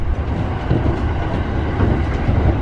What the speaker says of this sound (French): nous sommes dans le métro